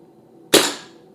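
A single sharp crack from an SMK Victory CP2 .177 air rifle firing a pellet through a chronograph, close and abrupt with a short decaying tail over a faint background hum.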